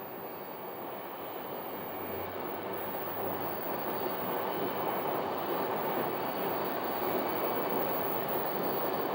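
An Embraer 175 airliner taxis after landing and turning off runway 8, a steady broadband jet engine roar heard from a distance, constant and unbroken with no talk.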